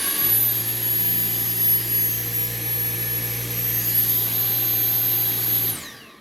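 A Dyson V8 Absolute cordless vacuum cleaner runs on max suction after being cleaned, giving a steady, loud motor whine with a high tonal hum that holds evenly for about six seconds before cutting off.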